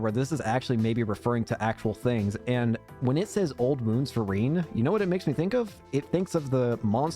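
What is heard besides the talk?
No everyday noise stands out behind the speech.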